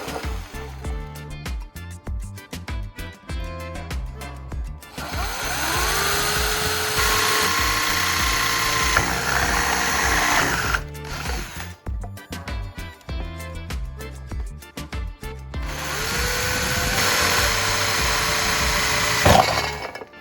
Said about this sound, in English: I'll mark 2 points on the bottom of the can where I'll drill holes.